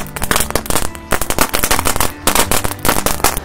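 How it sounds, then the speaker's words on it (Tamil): Sivakasi firecrackers burst in a rapid, loud string of sharp cracks lasting several seconds, with brief gaps between close-range volleys. "இதை நம்ம வெடிச்சு பார்க்கலாம் எப்படி வெடிக்குது"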